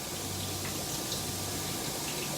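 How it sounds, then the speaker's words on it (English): Beer poured from a can over pork back ribs, a soft continuous splashing and fizzing trickle, steady and faint throughout. "I'm just gonna put some beer on top of these"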